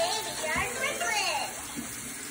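Running tap water splashes steadily, moderately close, while hands are wetted for handwashing and voices talk over it.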